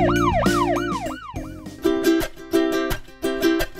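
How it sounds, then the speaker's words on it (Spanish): A police car siren wails in smooth rising and falling sweeps, fairly loud, for about a second and a half, then cuts off as an upbeat children's song with rhythmic beats takes over. "Lo que escuchamos con nuestros oídos es la sirena de policía."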